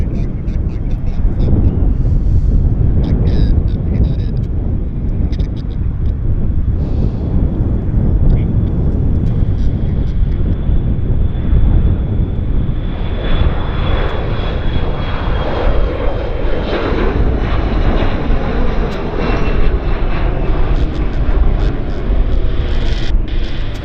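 Alaska Airlines jet rolling for takeoff at Vancouver Airport, a loud continuous roar of engines building and holding, with wind buffeting and a person talking over it.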